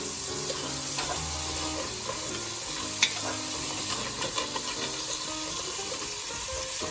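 Chicken and rice sautéing in a pot, a steady close sizzle and crackle with a few scraping stirs and small clinks throughout, no voices.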